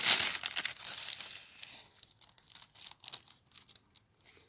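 A small plastic sachet of goodies from a parcel being torn open and handled, with crinkling and rustling close up that is loudest at first and then fades into lighter scattered crackles.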